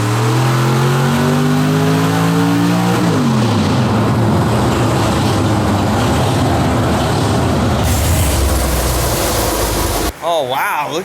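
A 1000-horsepower Hemi-engined car revs hard in a garage, a loud, close engine roar that climbs in pitch, settles into a heavy rumbling drone and then cuts off abruptly near the end.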